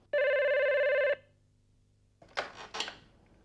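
A single loud telephone bell ring sounds for about a second, then silence, followed by brief clattering handling noises as the receiver is picked up.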